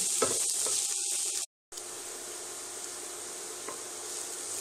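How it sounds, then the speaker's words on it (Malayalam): Ginger, onion, shallots and curry leaves are sautéed in oil for a fish roast, a close, steady sizzle with light stirring scrapes and one brief gap of silence. "ഒരു കതിരി വേപ്പില ഇതെല്ലാം കൂടെ നമുക്ക് നന്നായിട്ട് വഴറ്റിയെടുക്കണം"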